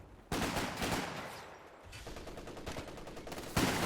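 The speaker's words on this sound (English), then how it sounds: "MG34 ready here to counter any British assaults there" MG34 machine gun fire in the Company of Heroes 2 video game, with a dense, sustained burst of rapid shots that begins loud and abruptly, continues steadily throughout, and ends on another loud burst.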